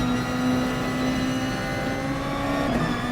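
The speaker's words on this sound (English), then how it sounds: "feather the throttle here, get back on the power and down this little straight here into turn number 4" A race car engine drones loud and steady at high revs, accelerating out of a corner on a circuit, with a constant harmonic whine and no speech.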